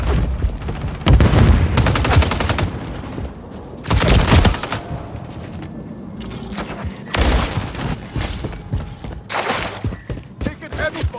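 Heavy gunfire in Call of Duty Modern Warfare 3 online multiplayer: loud, dense bursts of automatic fire arrive in several clusters, with sharp shots and crackle in between and some game chatter underneath.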